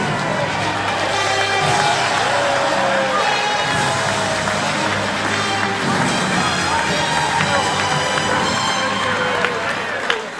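A crowd at the 2004 Leeds annual awards dinner cheers and applauds as the host is welcomed, a dense, sustained roar filling the room for about ten seconds.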